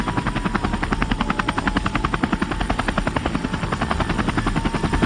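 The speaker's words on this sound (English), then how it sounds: "The Air America helicopters would fly in." Air America helicopter flying in, its rotor thumping in a fast, steady rhythm that stays loud and even throughout with no voices.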